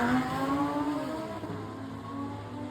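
Lamborghini STO with its V10 engine, a moderately distant mechanical drone whose pitch sweeps and wavers as the revs rise and fall, with no talking over it.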